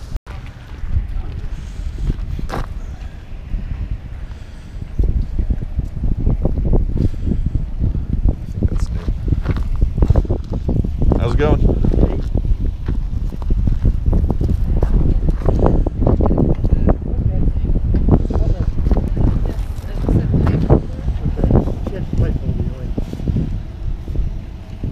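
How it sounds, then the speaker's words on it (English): Strong cold wind at an outdoor flea market, loud low buffeting gusts battering the microphone almost continuously, with occasional faint voices beneath. "That wind is not anybody's friend today."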